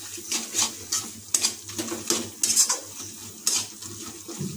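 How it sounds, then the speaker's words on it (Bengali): A spatula stirs chicken ghugni with chilli and turmeric in a pan, giving rhythmic scraping strokes over a gentle sizzle, close and loud with no voices. "খুন্তি দিয়ে ভালো করে নাড়িয়ে নেব।"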